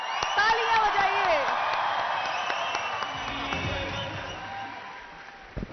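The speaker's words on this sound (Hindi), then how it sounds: "तालियां बजाइए।" Applause and cheering from a convention audience at a Pakistani Kamyab Jawan youth program event, a broad steady crowd wash that slowly fades, with a voice over the top early on.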